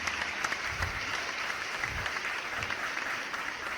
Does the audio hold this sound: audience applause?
yes